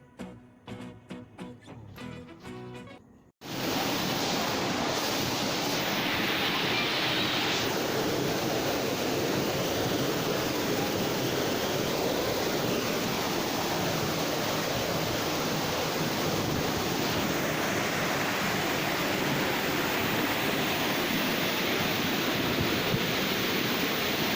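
Nhani waterfall at Bhandardara in the monsoon, heard from a man-made bridge facing it, pours down from a great height in a dense, continuous roar that begins abruptly after a few seconds of quieter sound and stays loud and unbroken.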